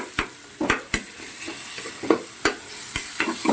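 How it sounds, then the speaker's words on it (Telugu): White brinjal frying with green chillies in a pan, with soft sizzling under a series of sharp spatula knocks and scrapes at an irregular pace, close up and alone. "ఇంకసారి మెత్తగా ఉడుకుతున్నాయి కదా వంకాయలు"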